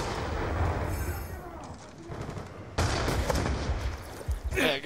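Vector K10 submachine gun fire in Call of Duty Black Ops 2, rapid bursts of gunfire with sharp cracks over game ambience, loud and close, in several volleys.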